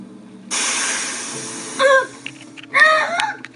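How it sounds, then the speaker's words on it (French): In a TV series scene, a spray can is sprayed into someone's face: a long steady hiss, then short vocal cries and a second burst of hissing with voices. "un bon petit spray dans la gueule"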